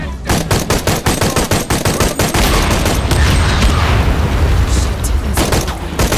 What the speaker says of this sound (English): Reports of more gunfire.